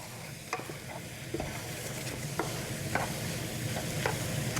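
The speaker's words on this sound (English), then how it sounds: "Give that a good stir, let that butter start melting down." Sausage, corn and orzo sizzle in a hot skillet while butter melts, a soft continuous fry with a handful of light spoon taps and scrapes as it is stirred.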